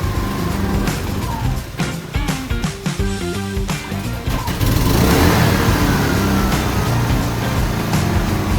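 A Philking PK3800 eco series generator engine starts by remote and runs, with a busy mechanical clatter at first, then a steady, loud, continuous hum.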